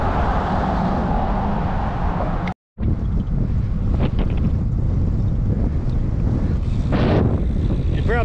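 Strong wind roars and buffets the microphone nonstop while cycling on a road ride, broken by a brief moment of silence partway through.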